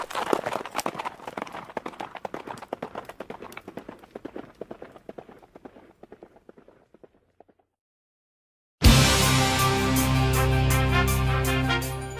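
A galloping horse, an audiobook sound effect, pounds away in rapid rhythmic hoofbeats that grow fainter as it recedes, fading to silence before music begins.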